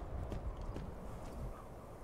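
Horse hooves from the video game Skyrim, a steady rapid clip-clop of galloping on the road toward Riften, fairly faint and even throughout with no talking.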